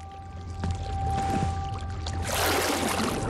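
A video game character plunges into water, a loud rushing splash that swells at the end and plays over steady background music.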